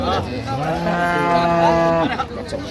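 A single long, loud bull moo at a cattle market in Ambari, Dinajpur, deep and drawn out with a rising then steady tone, ending abruptly with some background noise.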